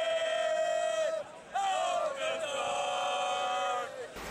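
Celtic supporters from Bavaria chant and sing loudly together in the stands at an FC Augsburg versus Celtic pre-season friendly. Sustained voices rise and fall in a short burst of chanting.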